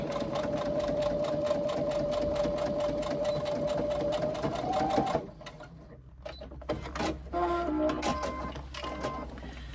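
A sewing machine runs steadily for about five seconds, stitching the seam of a Crossroads carry-all tote, then stops, leaving quieter handling clicks and rustles of fabric.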